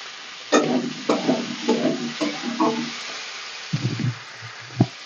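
Elephant foot yam frying with salt and turmeric, stirred in a pan, giving a steady close sizzle broken by repeated scraping stirs and a few knocks of the utensil.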